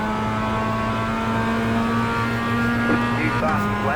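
A race car in the iRacing sim coming around a lap, its engine holding a steady high drone with a brief dip and shift near the end, close and continuous.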